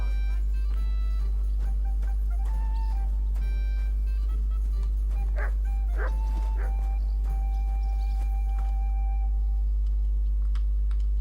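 A dog in the medieval video game Kingdom Come: Deliverance 2 barking and yipping in short sharp bursts, mixed with game ambience and a steady low hum, while a voice speaks.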